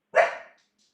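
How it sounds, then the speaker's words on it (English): A single short, loud dog bark sounds close by and alone, then quickly fades. "The dog hears a dog."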